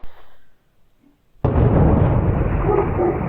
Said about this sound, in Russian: Опять стреляют.